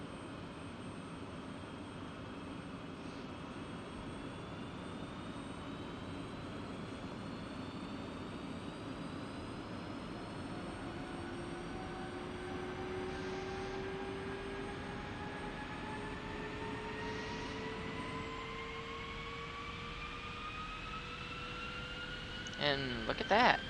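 F-16C jet engine spooling up at startup in the DCS flight simulator, a steady rising whine with climbing tones over a constant roar, sustained and even, growing slightly louder at the very end.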